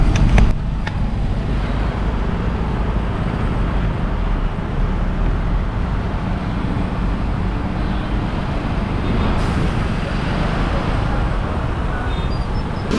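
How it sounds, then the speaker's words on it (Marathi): A congested road near Chiplun during the Ganesh Chaturthi rush carries a loud, continuous rumble of idling and crawling buses and cars, with engine drone dominating throughout. "सगळ्या गाड्या तर बऱ्याच आहेत ट्राफिक झालं आहे"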